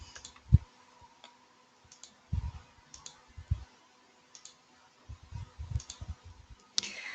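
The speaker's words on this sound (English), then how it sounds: "So I'm just going to click in and get started." A computer mouse clicks during a walkthrough of setting up an ArcGIS for Schools account. The quiet, crisp clicks come singly and in small clusters, scattered irregularly through a near-silent room.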